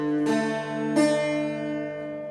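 A handmade Irish bouzouki rings out with two strummed chords, the second about a second after the first, each left to sustain and slowly decay, played close and alone.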